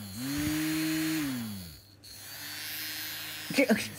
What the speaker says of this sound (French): Et le petit blender, donc là, je sais que c'est pour mélanger des trucs.